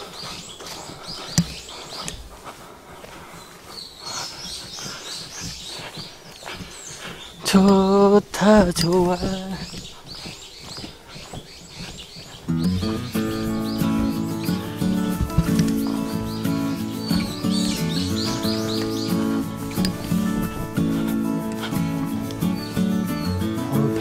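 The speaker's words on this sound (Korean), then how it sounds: "새소리도 좋고" Birds chirp and tweet in a forest at Sanyang Gotjawal, Jeju, with someone speaking briefly. Later a sustained tonal drone rises over the birdsong.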